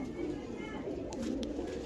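Pigeons coo in a loft with a steady low-pitched murmur that carries through the whole stretch, with a couple of brief higher chirps near the end and a faint background hum.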